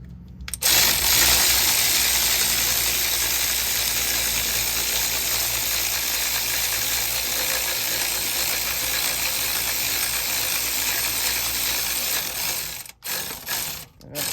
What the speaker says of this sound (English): if you have an electric ratchet like I do and an adapter, you can make your life much easier